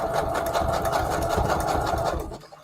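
A sewing machine runs a regular zigzag stitch over lace for a junk journal cover, a steady close mechanical whirr and patter that carries on without pause and cuts off abruptly at the end.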